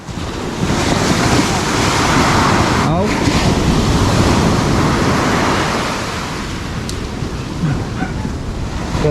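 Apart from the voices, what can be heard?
sea waves and wind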